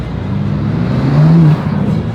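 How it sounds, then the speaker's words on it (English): A BMW engine hums steadily, then briefly revs higher before dropping back, heard from nearby amid outdoor night street noise in Zurich. "the BMW revving again"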